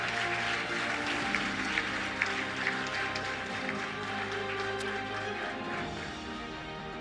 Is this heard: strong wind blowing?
no